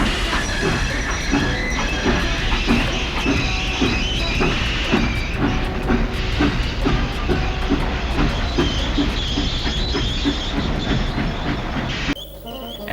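A train engine struggling to move a train in icy, bad weather, with a steady rumbling mechanical churn and rhythmic wheel clatter sustained for about twelve seconds before cutting off abruptly.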